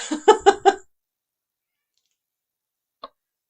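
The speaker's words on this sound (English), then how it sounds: "I hear a cat wanting to come in." A house cat meows to be let indoors, three or four quick rising calls close by, followed by silence and one faint short call later.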